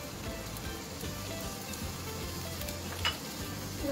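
Spices fried in a pan with ginger-garlic paste give off a steady, close sizzle that holds evenly throughout, with a small clatter near the end as they are stirred in.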